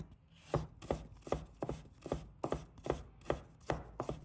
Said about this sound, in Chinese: 把它切成细丝